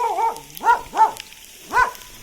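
A dog barks outdoors in several separate, fairly loud barks, a pair near the start followed by two more after short pauses, with quiet background between them.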